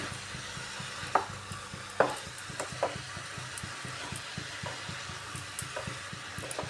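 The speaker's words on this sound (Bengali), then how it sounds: "এইভাবে একটু সময় কষিয়ে নেব চাল কুমড়োটাকে" Ash gourd pieces sauté in a pan with a soft, constant sizzle, broken by a few sharp clinks and scrapes of a spatula stirring, with no one speaking.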